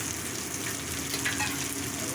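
A spice paste of ginger, poppy seed and cashew fries for a Bengali vegetarian green coconut paneer dish, giving a continuous soft sizzle with light stirring, fairly quiet and steady throughout.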